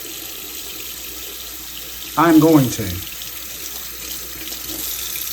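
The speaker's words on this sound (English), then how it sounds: "So we're going to wait just a second for that water to get hot." Hot water runs steadily from a tap into a sink while brass is being cleaned, a continuous splashing rush with someone speaking briefly over it.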